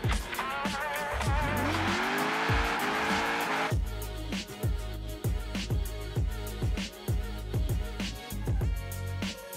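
Engine roar and tire squeal from a limousine driven in the Forza Horizon 4 racing game, loud and continuous, with a sustained skidding whine early on, then repeated rhythmic bursts of engine revving and tire noise.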